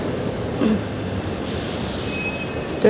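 A train passes close by on tracks beside a road, with a steady loud rolling rumble, squealing wheels and high metallic screeches rising toward the end.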